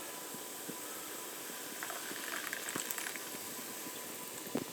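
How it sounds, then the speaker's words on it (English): Club soda poured into a mug, giving a faint, steady carbonated fizz with scattered tiny crackles and pops that rise slightly near the end. "open the club soda and pour it into this"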